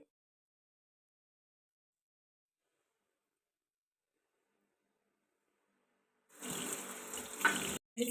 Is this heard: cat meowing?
no